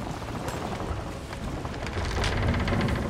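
Water rushes steadily into a sinking ship in Sea of Thieves, a dense, loud hiss and churn that swells slightly toward the end, with no voices.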